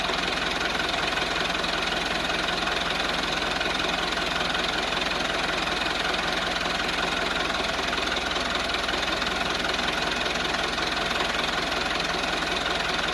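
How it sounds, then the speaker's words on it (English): A forklift engine runs steadily at idle with a knocking, vibrating mechanical tone, continuous and fairly close throughout, with no talk over it. "put the forklift in first."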